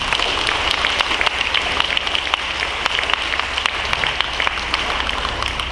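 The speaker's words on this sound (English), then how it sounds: "Let's give them all a round of applause" Audience applause at a school Veterans Day program, a loud, dense, continuous patter of clapping like heavy rain, with crisp individual claps scattered throughout and a low background rumble underneath.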